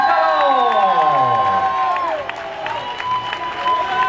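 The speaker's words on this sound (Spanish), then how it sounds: "El aplauso, Alberto." A crowd cheers and applauds the 2008 Vuelta a España winner on the podium, a steady loud roar of voices and clapping with whoops and shouts, and a tonal announcer-like voice sweeping over it throughout.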